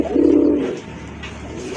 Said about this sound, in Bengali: আরেকটা কবুতর চলে আসছে,